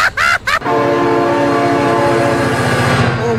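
A train roars past in BeamNG.Drive, loud and close, its horn sounding over a steady rumble and clatter of wagons after a brief shouted outburst at the start.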